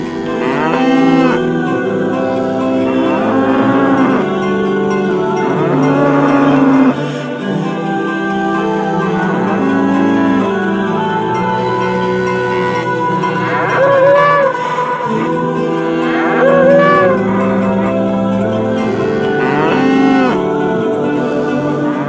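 A cow moos again and again, loud and close, with long drawn-out calls returning every few seconds over a steady droning background and no talking.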